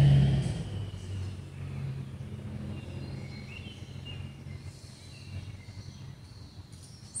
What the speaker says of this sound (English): And here comes another truck.